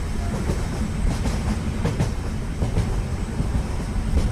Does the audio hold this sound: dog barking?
no